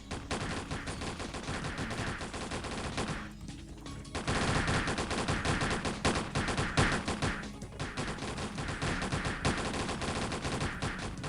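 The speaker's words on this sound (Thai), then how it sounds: "อันนี้ปืน คู่นะครับ ไม่มีสกิล จะลองยิงดูครับ" Dual guns firing in the Ragnarok Online video game, a dense, relentless stream of rapid shots that carries on nearly throughout, with a brief gap near the start and game music and effects layered underneath.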